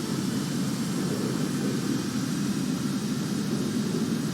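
A steady, loud jet engine roar from an F11 Tiger taking off in a combat flight game, a continuous broadband rush with no breaks and no talking.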